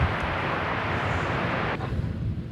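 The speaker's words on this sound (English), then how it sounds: "Let's watch this Dreamliner head off to Seoul" A Boeing Dreamliner jet departing DFW Airport gives a loud, broad steady roar with buffeting wind noise on the microphone, heard alone with no talk.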